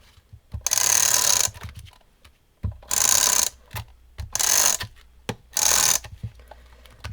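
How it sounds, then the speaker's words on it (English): Tape runner rolling adhesive onto a paper card with an embossed front, heard as four distinct bursts of close, loud ratcheting whir, each lasting about a second with short pauses and small clicks between them. "I'm just going to use my tape runner."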